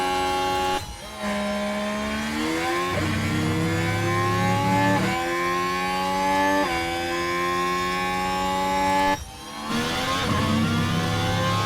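Haas Formula 1 car engine in the F1 Manager 24 game at the Bahrain Grand Prix, a loud screaming whine rising through repeated upshifts, cutting out briefly twice before resuming, with no voices.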